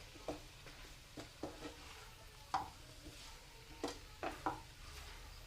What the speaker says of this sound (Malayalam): ഇത് നന്നായിട്ട് നമുക്കൊന്ന് വഴറ്റി കൊടുക്കണം